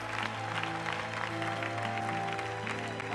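Church congregation applauding and cheering for the Lord during a French-language seminar service, a dense burst of clapping with raised voices and a sustained musical tone underneath.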